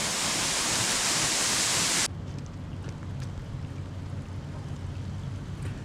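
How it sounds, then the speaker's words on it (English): Runoff from rain and melting snow pours down a hillside as a steady, loud rush of water. It drops abruptly to a quieter, continuous flowing wash after about two seconds. "there's lots of water running down off this hillside today"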